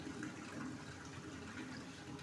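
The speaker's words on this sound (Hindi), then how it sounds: "अब इसी में डालेंगे पानी।" Water poured into ground raw mango paste, a steady gushing, splashing flow close up, heard alone and continuous for the whole moment.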